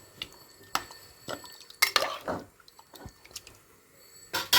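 Water poured over raw rice in a cooking pot, then stirred, giving scattered clinks, scrapes and splashy strokes against the metal that come in short bursts with quiet gaps.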